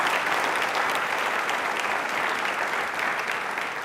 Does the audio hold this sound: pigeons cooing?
no